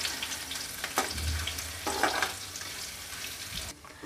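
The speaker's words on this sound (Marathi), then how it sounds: "आलं लसूण आणि मिरचीचे बारीक तुकडे करून घेतलेले आहेत ते घालूयात आणि परत एकदा फ्राय करून घेऊयात" Finely chopped ginger, garlic and green chili fry in hot oil in a pan, a close, loud sizzle with bursts of stirring scrapes that drops off abruptly near the end.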